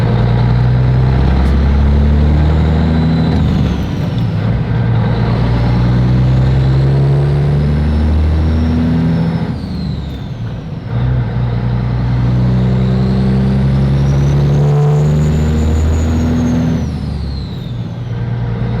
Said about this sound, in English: I have gotten into the Blown Mafia semi Kenworth